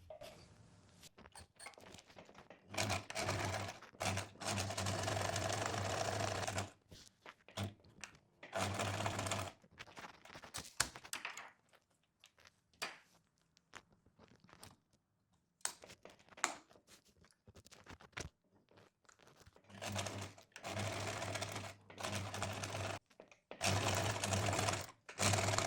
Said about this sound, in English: So I do a few back and forth stitches here and here as well.